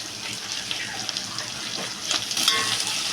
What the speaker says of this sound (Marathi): ते सगळं छान असं व्यवस्थित मिक्स करून घ्यायचं आहे, परतून घ्यायचं आहे तेलात